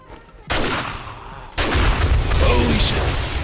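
Accelerant at a gas station explodes after being shot in 7 Days to Die, a sudden heavy boom followed by a second louder blast that rolls into a sustained roaring rumble, loud and close, with a voice reacting.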